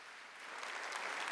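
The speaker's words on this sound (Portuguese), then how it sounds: "Dá mais uma salva de palmas para Padre Jonas" Audience applause for Padre Jonas Abib at a Catholic talk, a dense wash of clapping that rises slightly in intensity and holds steady and fairly soft throughout, with no voices over it.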